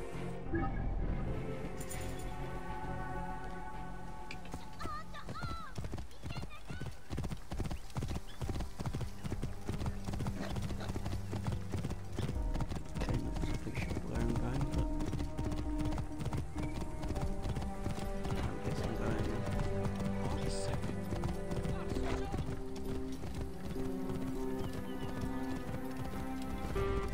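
Horse in Assassin's Creed Origins trotting with a steady, rapid clip-clop of hooves from start to finish, plus occasional neighing, loud and close over a busy game soundscape.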